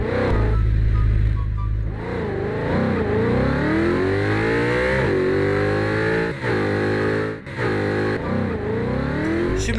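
A stolen car's engine in Garry's Mod revving loudly and continuously while driving, its pitch climbing and dropping repeatedly as it accelerates and shifts, up close with no talk.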